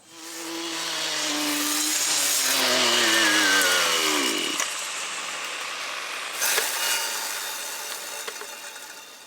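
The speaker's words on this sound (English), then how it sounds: "all I'm using here is a large weed whipper with a grass cutting blade on the end" A large weed whipper fitted with a grass cutting blade whines up loud and steady, its pitch sweeping as it bites into grass, then drops to a lower running drone with occasional knocks.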